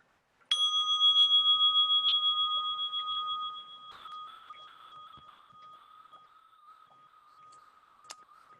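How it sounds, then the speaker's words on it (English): A meditation bell is struck once to open a guided meditation session. The clear, sustained tone rings loud at first and then fades slowly across several seconds, with one faint tap near the end and no speech. "And I'll start us off with our bell."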